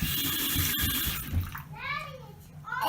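Water runs steadily from a newly replaced bathroom faucet, a constant close hiss and splash, while a child and an adult talk over it.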